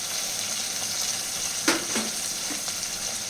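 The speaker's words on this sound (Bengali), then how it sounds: "এবার পেস্ট করা মশলাটা আমি দিয়ে দিচ্ছি, ওটাকে ভেজে নিই" Spice paste frying in a pan of oil for a pumpkin curry, giving a continuous dense sizzle with a few brief stirring clatters near the middle.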